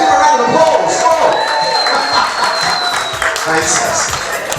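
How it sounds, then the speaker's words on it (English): Wedding guests applaud and cheer after the cake is cut at a reception, a dense, loud burst of clapping and crowd noise with voices calling out over it. "Give a round of applause."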